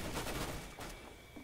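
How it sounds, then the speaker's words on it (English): Gunfire in a CS:GO multiplayer match, with rapid bursts of shots repeating across the clip at moderate level. "Shooting me through the fucking wall."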